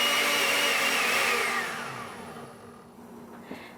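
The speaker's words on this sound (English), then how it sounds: "You want to take care when you're blending hot liquids to always have a towel over the top." Blender whirring loudly while blending hot ginger spiced tea, a steady high motor roar that winds down and fades over the last couple of seconds, with a small knock near the end.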